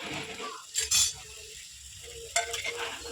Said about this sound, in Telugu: ఉల్లిపాయలు వేసి ఫ్రై చేసేయండి ఇట్లా